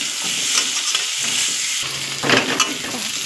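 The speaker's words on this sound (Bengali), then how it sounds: "এবার ভালো করে কষিয়ে নেব।" Ground turmeric and cumin masala being stir-fried in a pan, a dense continuous sizzle with scraping spatula strokes throughout, close and fairly loud.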